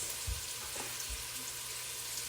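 Garlic fries in a pot of oil for black-eyed pea soup, a quiet, steady sizzle with a couple of soft knocks as pieces drop in.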